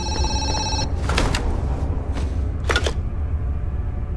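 A telephone rings in the video game Zoochosis, a busy electronic ring in several short bursts over a steady low background hum, loud and near, with no talking.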